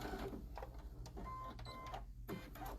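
A sewing machine stitches fabric pieces in short, quiet bursts that stop and start, heard faintly up close with soft handling noises between runs.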